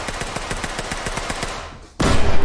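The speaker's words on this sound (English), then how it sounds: "And the bomb went off." A bomb detonates in the tactical shooter Ready or Not after a stretch of rapid automatic gunfire; the blast arrives suddenly and loud near the end, a dense roaring burst that stays sustained through the final half second.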